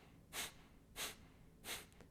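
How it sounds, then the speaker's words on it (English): Three forceful Kapalabhati breathing exhales, sharp nasal bursts of air at an even pace about two-thirds of a second apart, close and clear with no speech. "1 full inhale, full exhale, half an inhale, and forceful breath."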